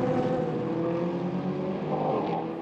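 Endurance race cars of the European Le Mans Series at Le Castellet give a sustained, loud engine roar with rising and shifting harmonic tones as they accelerate side by side.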